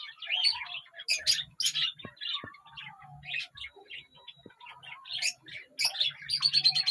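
Cockatiel chirping repeatedly in close, bright bursts, a busy run of tweets and calls with short pauses between, with soft low rustling underneath and no talk.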